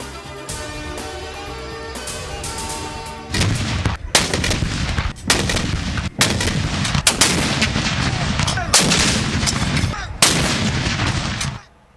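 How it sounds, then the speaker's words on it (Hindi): Cannon salute fired for Pakistan's Independence Day, a series of loud booming artillery blasts spaced about a second apart, following a brief stretch of background music. "इस्लामाबाद में 31 और सूबाई दारुल हुकूमतों में 21-21 तोपों की सलामी से दिन का आगाज"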